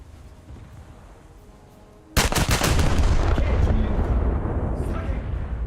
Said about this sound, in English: Wyoming seems to have noticed me engaging him and is returning fire.